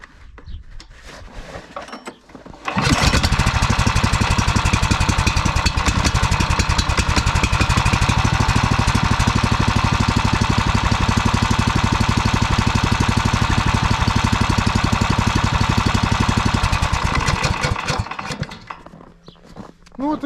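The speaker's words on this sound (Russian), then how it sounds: "Сейчас пробуем запустить двигатель." A Rybak PKD motorized tow sled engine catches after a short quiet stretch and runs loud and close at a steady rapid chug, then cuts out and falls quiet near the end.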